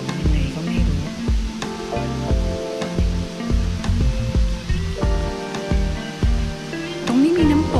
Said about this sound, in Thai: ตรงนี้มีน้ำตกไหลลงมาจากด้านบนด้วย